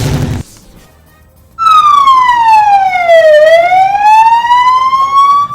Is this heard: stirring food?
no